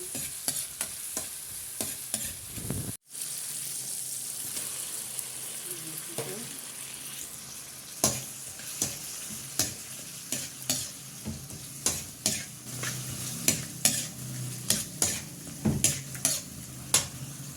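Chicken feet go into a pot of cooking tomato and garlic, giving a soft steady sizzle under repeated close spoon clinks and stirring scrapes against the pot, with a brief moment of quiet early on.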